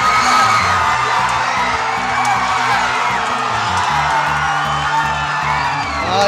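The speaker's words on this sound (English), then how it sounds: "And with just 30 seconds left and the partisan Penfield crowd going absolutely crazy, Charlie Cummings tied it." Partisan home crowd at a Penfield high school lacrosse game cheers and whoops loudly and continuously, a dense roar of shouting fans with a low voice rumbling beneath.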